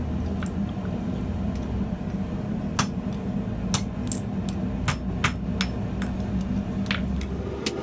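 Hot iron being forged to draw out a tenon for a mortise-and-tenon bracket, with a dozen or so sharp, ringing hammer blows struck at an uneven pace over a steady background hum.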